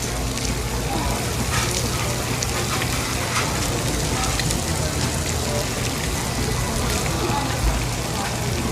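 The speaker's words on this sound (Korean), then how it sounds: "이제 드디어 기름이 보글보글" Gopchang (beef intestines) frying in bubbling oil at a restaurant, a steady dense sizzle and crackle close by with no pauses.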